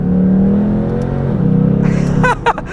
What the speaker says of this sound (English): I love those transmission gear changes.